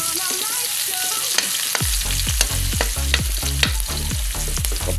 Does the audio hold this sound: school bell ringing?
no